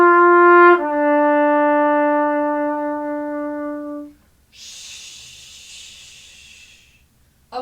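A trumpet holds one sustained note that tapers off gently at the end, followed by a soft breathy hiss, played alone and close.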